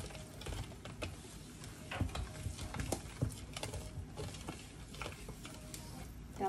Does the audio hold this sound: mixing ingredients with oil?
yes